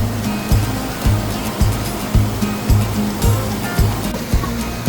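Rushing waterfall water roars steadily up close in the rain in Indang, Cavite, with a low rhythmic pulsing beneath the broad hiss, continuous and without voices.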